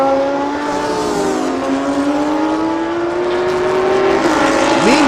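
GT3 race cars at a Thailand Super Series race, a Honda NSX among them, engines roaring at high revs with a rising pitch as they accelerate past, loud and continuous with no talking.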